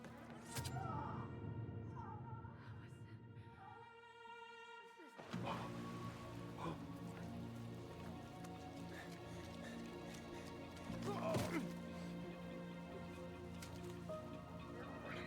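Steady rain falls in the Tell Me Why video game, a continuous soft patter and drip that stays moderately loud throughout, with a brief louder burst partway through and some faint game sounds mixed in.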